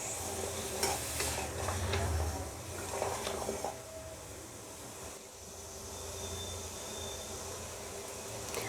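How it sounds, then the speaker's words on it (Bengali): Thin sugar syrup with broken cardamom pods boils in a pot for gulab jamun, giving a steady close bubbling and hissing, with a few stirring scrapes early on. "বন্ধুরা দেখুন, সেরাটা আমার খুব সুন্দরভাবে ফুটছে"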